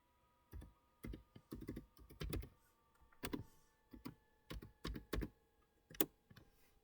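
Keys tapped on a computer keyboard while entering a password, a sparse, quiet sequence of separate clicks in small irregular groups over a faint steady hum, no voices.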